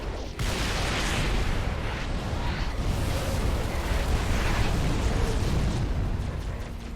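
An artillery strike called in with a target locator in Halo Reach, heard as a continuous loud roar of blasts and rumbling debris filling the whole stretch after a brief quiet start, with no talk.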